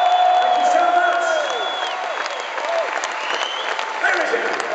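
A concert crowd at a hard rock show breaks into sustained, loud applause mixed with cheering and scattered whoops, the dense clapping holding steady throughout.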